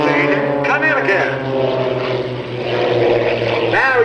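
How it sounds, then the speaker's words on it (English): Propeller aircraft flying at a Greenwood Lake airshow, a steady droning engine hum running continuously throughout with rising and falling pitch sweeps, while someone speaks over a public address system. "His wingman and partner from Canaan, Connecticut, flying the number 2 aircraft, is Billy Segal from Canaan, Connecticut."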